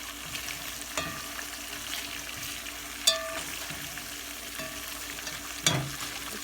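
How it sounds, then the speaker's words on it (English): Steady crackling sizzle of meat frying in fat, close and continuous, with occasional louder pops and spatters. "I can hear it like frying already"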